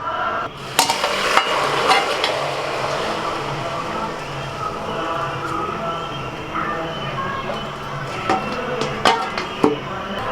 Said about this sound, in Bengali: ফোড়ন ভাজা হয়ে গেছে, এবার দিয়ে দেবো।